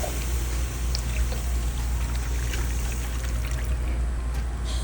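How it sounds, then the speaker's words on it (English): Beef broth pours into a pot holding flour and onions for gravy, a soft steady liquid pour and trickle at close range over a low background hum. "Next we're going to put some beef broth in there and stir it all up just to make some nice good gravy."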